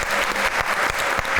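A studio audience at a comedy talk show bursts into applause, a full, even rush of clapping from many people, loud and continuous for the whole short stretch.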